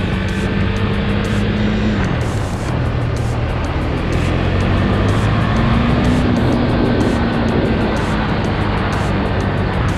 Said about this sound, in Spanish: Es una moto que jala durísimo y tiene unos frenos brutales.